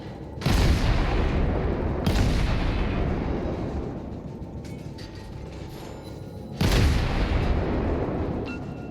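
Naval gunfire in the World of Warships video game: heavy booming salvos, one near the start, another at about two seconds and a third later, each followed by a long rumbling decay.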